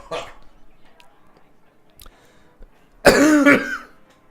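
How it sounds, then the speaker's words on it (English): Coughing and throat clearing come from one person: a few faint, scattered clearing sounds first, then one loud, close, rough cough-clear burst near the end. "I hate that I have this cough going on"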